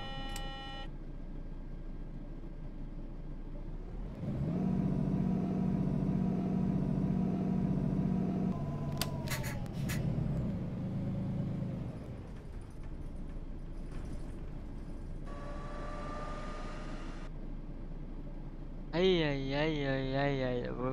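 A vehicle engine in a driving video game starts and idles with a low steady hum, a louder running stretch in the middle, then settles, with game tones and beeps layered in and brief talk.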